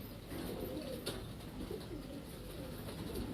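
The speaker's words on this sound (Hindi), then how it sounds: "गोल गड़े कबूतर हैं" Pigeons in a loft coo in a low, continuous murmur against a steady background hiss, with one sharper click partway through.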